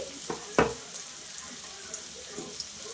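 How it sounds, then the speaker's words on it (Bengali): Onion frying in a pan for boal fish curry, a soft steady sizzle with a sharp scrape or clatter near the start and a few lighter stirring knocks. "পেঁয়াজটা একটু ভালো করে ভেজে নেব।"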